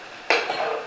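A spoon stirs beef with reserved marinade in a pan for an Asian stir fry, giving a sudden scrape and clatter followed by steady soft stirring and faint sizzle, close and alone.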